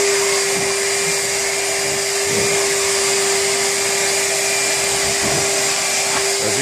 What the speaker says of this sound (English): now I have assembled the Charles wet and dry vacuum cleaner, and this is the first time I'm trying to test drive it